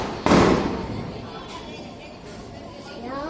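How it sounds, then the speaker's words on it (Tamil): A lit firecracker bursts with one sharp, loud bang, followed by a decaying hiss and crackle while people chatter in the background. "பற்ற வச்சாச்சு, வெடிக்க போகுது."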